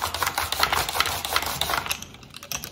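A sweet potato being sliced on a mandoline-style slicer with a hand guard, giving rapid, steady rasping strokes that repeat in a close, continuous rhythm before slowing near the end.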